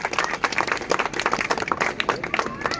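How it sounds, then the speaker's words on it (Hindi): A gathered crowd at a welcome event in Mathura breaks into lively clapping, quick uneven handclaps close and continuous, with a few voices faintly under it. "जोरदार तालियां पंकज जी के लिए।"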